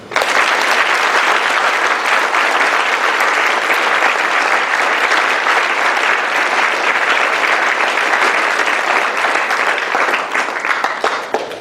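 A ceremony audience gives sustained, loud applause for a marching band at a high school presentation, with dense clapping holding steady for about eleven seconds before starting to thin.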